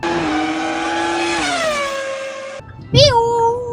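High-pitched engine whine of Formula 1 race cars passing close by at the Abu Dhabi Grand Prix, pitch sliding down as they go, followed by another sharp engine surge.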